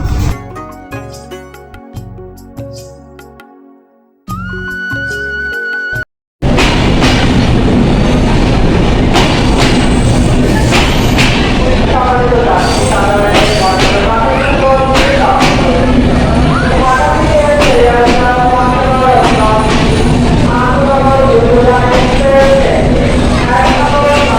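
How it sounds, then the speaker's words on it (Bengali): After a few seconds of other sound, a passenger train on the Comilla to Dhaka Airport line rumbles loudly and continuously along the rails with a steady clickety-clack of the wheels. "ট্রেনগুলো স্মুথ ভাবে চলে"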